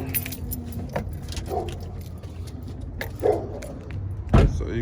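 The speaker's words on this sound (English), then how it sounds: "That's me unlocking the car." Keys jangle against a 2000 Chevrolet Silverado pickup as it is unlocked at night, a soft metallic rattle through the clip with a sharper clack near the end, set over low outdoor rumble and faint background voices.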